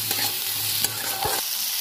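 Green peas with turmeric and salt fry in a kadai, sizzling steadily while a spatula scrapes and stirs them in a few distinct strokes, close and moderately quiet.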